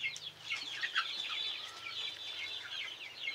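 Chickens clucking and chirping in a steady chorus on a poultry farm, a flock heard close by with overlapping calls and no talking.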